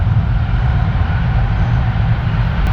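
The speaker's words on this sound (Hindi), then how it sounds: "एक और ट्रेन आने वाली है जिसका रूट डाइवर्ट है और वो है 45 आप पाकिस्तान एक्सप्रेस" The diverted Pakistan Express pulls into Lahore station, a loud steady low rumble of rolling wagons and wheels on track, close by and continuous, with no voices.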